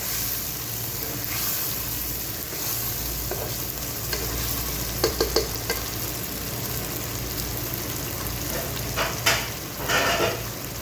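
Mutton frying in a handi sizzles loudly and steadily from start to finish, with brief stirring scrapes and clatters poking through the constant hiss near the end.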